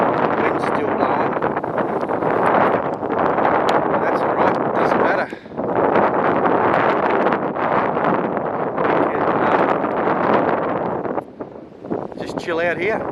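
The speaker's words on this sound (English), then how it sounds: "Very choppy out there, wind's still blowing." Strong wind blowing at a choppy coastline on the Eyre Peninsula, a loud continuous rushing buffet across the microphone that drops briefly twice, with someone talking over it.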